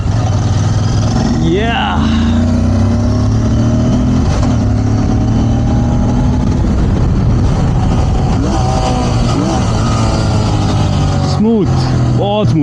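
A Royal Enfield Interceptor 650 or Continental GT 650 motorcycle engine runs steadily up close, with a few rising revs near the start and end, under a voice talking.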